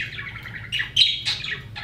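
A gray pet bird, a talkative male, gives a short burst of bright, close chirps and tweets, rising to a sharper squawk-like peak midway, with no talk.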